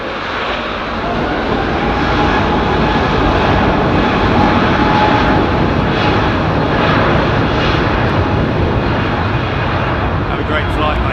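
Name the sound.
Airbus A380 touching down at London Heathrow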